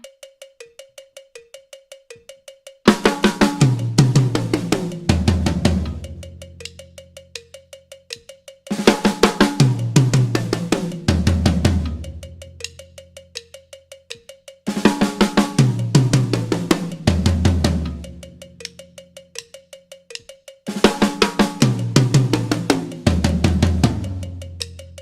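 Drum kit fill with a drag on the and of 4, repeated four times in regular phrases over a steady metronome-like click, loud and close with no talking.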